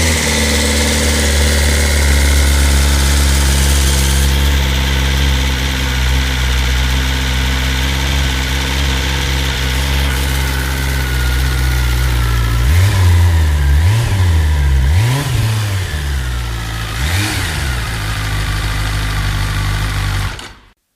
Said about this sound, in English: 4 cylinders, incredible power and precision, and a bike to own the racetrack on. That'll be the awe-inspiring S1000RR then.